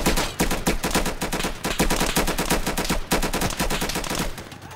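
Sustained rapid gunfire in the shooter game Insurgency, a loud, dense barrage of automatic shots close by with only a few brief breaks.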